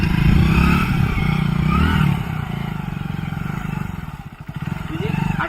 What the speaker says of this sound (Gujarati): બાઈક